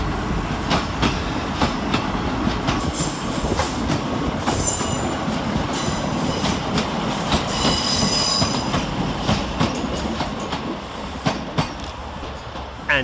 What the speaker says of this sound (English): Arriving with the slightly delayed 1039 East Midlands Railway service from Norwich to Liverpool Lime Street via Warrington Central.